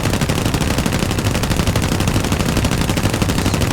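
Continuous rapid gunfire from a P-36G fighter's guns during an air battle in War Thunder, a dense unbroken stream of loud shots over steady engine roar.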